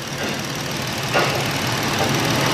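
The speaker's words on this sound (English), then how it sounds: "I get in the driver's seat and I run it through the gears a little bit" A Ford Edge engine idles steadily during a transmission flush as it is shifted through the gears, a close, constant rumble with a slight lift partway through.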